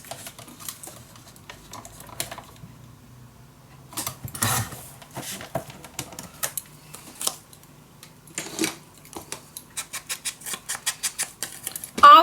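Scissors snip through paper for a mini album craft project, a run of quick crisp cuts, scattered at first and then speeding into a rapid rhythmic series near the end, close and fairly quiet.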